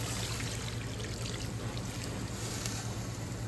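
Water pours steadily into a pot holding a pork roast with onions and bell peppers, a soft continuous trickle and splash heard close and alone.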